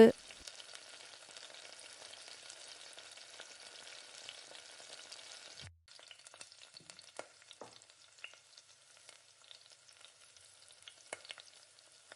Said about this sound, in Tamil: நல்லா தக்காளியை வதக்கி விட்டுட்டு